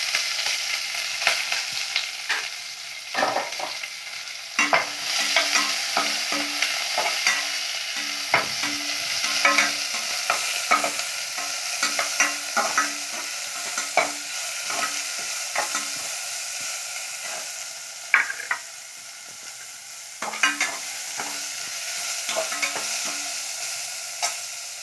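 Mustard seeds sizzle and pop in hot oil in a pan while a spoon stirs and scrapes steadily, tempering with onion, curry leaves and green chilli for a cauliflower curry; close, continuous frying with repeated stirring strokes and no talk.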